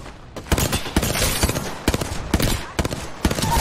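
Rapid bursts of gunfire from the battle royale game PUBG, loud and close, with clustered volleys and sharp single cracks repeating across the whole stretch.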